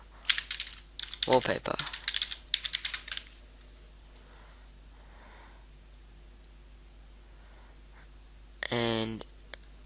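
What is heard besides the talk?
typing on a computer keyboard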